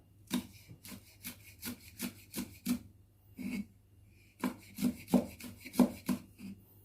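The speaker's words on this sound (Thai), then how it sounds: "ผมก็จะหั่นพริกใส่เพิ่ม" A knife taps and scrapes on a cutting board slicing chili peppers in quick chopping bursts, a run of cuts, a pause, then another fast series, close and quiet.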